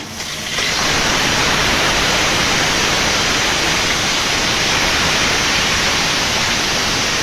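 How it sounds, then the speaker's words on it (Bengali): A fish head, rubbed with salt and turmeric, frying in hot oil, producing a loud, dense, continuous hiss and crackle that swells in within the first second and holds steady. "মাথাটা উল্টে পাশে ভেজে নেব।"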